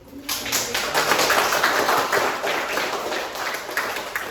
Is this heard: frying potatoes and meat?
no